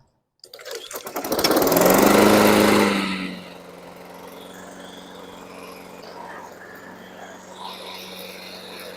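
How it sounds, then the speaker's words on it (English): A Honda push lawn mower running on non-ethanol gas starts up and roars loudly for a couple of seconds, then settles into a quieter steady idle. "now fingers crossed we have a fully working lawnmower here."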